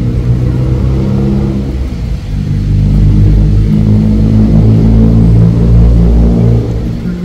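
A black Audi or BMW car engine revs steadily with a deep, continuous rumble, loud and close throughout, with no talking.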